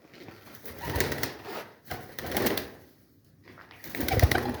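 Pigeons coo softly in a cage in a few low, rounded phrases with quiet gaps between them, heard close up without talking.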